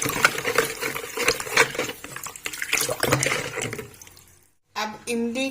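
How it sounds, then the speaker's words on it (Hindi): Sugar stirred into water in a jug for tamarind and aloo bukhara juice, a close, busy swirling of liquid with light clinks, stopping briefly near the end before speech resumes. "चीनी को अच्छे से मिक्स कर लेंगे।"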